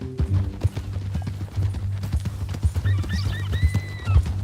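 Horse hooves clip-clop in a steady walking rhythm on a dirt path in Red Dead Redemption 2, close and distinct over a low ambient hum, with a brief whinny-like sound near the end.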